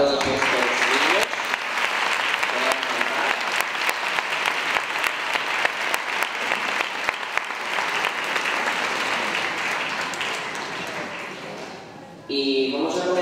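Sustained audience applause at a children's Christmas carol contest at a school, loud and steady for most of the clip, tapering near the end before a voice starts speaking.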